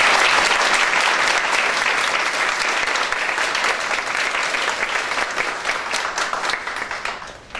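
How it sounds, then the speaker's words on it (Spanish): An audience at a university lecture on international relations gives strong, sustained applause, dense clapping that thins and fades toward the end. "Un fuerte aplauso para ellos"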